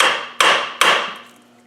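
Three sharp metallic taps from a hammer striking the back of an alternator on a Land Rover 300Tdi engine, evenly spaced, each ringing briefly before fading.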